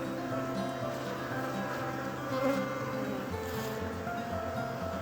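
Honeybees in a queenless hive hum in a steady, dense drone, close and continuous with slight swells, no talking over it.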